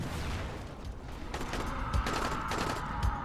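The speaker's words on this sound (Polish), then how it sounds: "Ktoś do mnie strzela?" Rapid gunfire aimed at the player in the game Dying Light, a steady barrage of overlapping shots with a couple of heavier bangs, continuous and moderately loud throughout.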